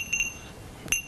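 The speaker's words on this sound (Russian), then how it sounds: "колокольчик" A small decorative bell from Turkey rings in a few light, brief tinkles: two quick strikes close together, a pause, then one more, faint against a quiet room.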